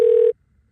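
A single ringback tone on a phone call, one steady electronic ring lasting about a third of a second, then a quiet line.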